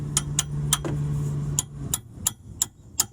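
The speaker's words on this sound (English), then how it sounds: "So I'm gonna use the hammer to hit it." Sharp metallic hammer strikes on a car's outer tie rod end ring out about nine times at a steady pace, with a low hum underneath early on.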